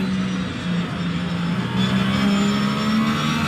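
Porsche GT3 race car engine in Assetto Corsa Competizione at Suzuka, a steady sustained drone that holds at a constant level and rises slightly in pitch partway through, with no voices.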